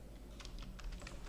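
Keys clacking on a computer keyboard while typing a name into a quiz exercise, a short burst of several close, fairly quiet keystrokes with a low hum underneath.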